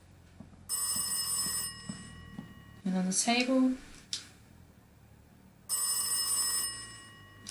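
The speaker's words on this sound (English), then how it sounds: "And trigger the phone ringing." An old-style telephone bell rings in two loud bursts in the horror game Rise of Insanity, with someone speaking briefly between them and some faint clicks.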